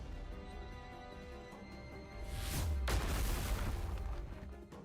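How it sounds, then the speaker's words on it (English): A loud explosion vaporizing a crystal wall in the video game Goddess of Victory: NIKKE, a rising roar that swells into a broad boom and rumble, then sustained crackling debris over background music. "A cacophonous explosion as the wall is entirely vaporized out of existence"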